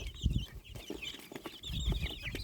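Bantam chickens clucking close by in short bursts, with scattered chirps and soft farmyard rustling in the background.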